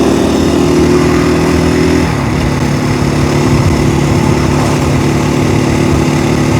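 A KTM 500 motorcycle engine drones steadily and close during a wheelie, its buzzing note holding high before dropping slightly in pitch about two seconds in, then running on unbroken with no talk.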